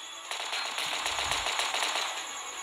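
Rapid automatic gunfire in a zombie video game, a steady rattling burst of shots running without pause for a few seconds at moderate loudness.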